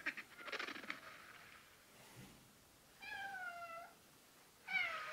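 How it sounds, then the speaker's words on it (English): A domestic cat meows for attention indoors: two clear, drawn-out meows close to the microphone, one in the middle and one at the end, after some soft rustling at the start. "Just my cat asking for pets."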